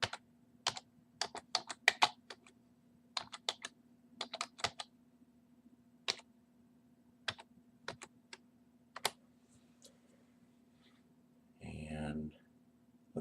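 Quick bursts of close keystrokes on a computer keyboard, clustered taps separated by pauses, followed by a brief muffled thud.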